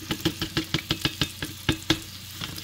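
Onions and potatoes fry in a pan beside sausages: a soft continuous sizzle under a run of about a dozen sharp, evenly spaced clacks, close and clear, with no talking.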